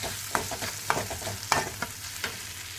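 Tomatoes sizzle in a pan while a spoon clinks and scrapes against the metal at a few sharp moments, making a moderate, close frying sound with no speech.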